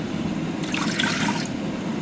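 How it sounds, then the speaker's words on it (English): Water is poured by the cup into the cooking pot of an air fryer, a soft, close trickle and splash lasting about a second over steady background noise. "you want to start by adding 3 cups of water into the cooking pot"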